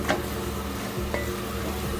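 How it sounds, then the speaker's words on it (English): Curry chicken with turmeric cooking down in a pot, a steady soft sizzle and frying hiss with a couple of light stirring scrapes. "I'm just cooking down the chicken."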